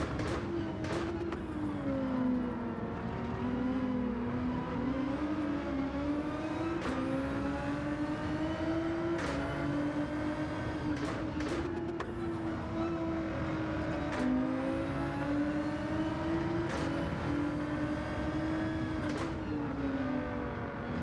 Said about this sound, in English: You can just hear that Mazda in that gaggle of engines.